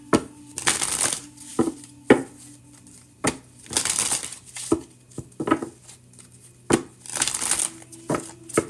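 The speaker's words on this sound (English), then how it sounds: "Shuffling for Sheena" Tarot cards shuffled for a reading, giving repeated bursts of riffling and crisp snapping, several distinct shuffles with brief pauses and sharp taps between them, close and fairly clear.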